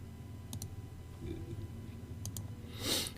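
A computer mouse clicks to save a file in Photoshop: two quick, faint click pairs over a steady low hum, followed by a brief breathy rush.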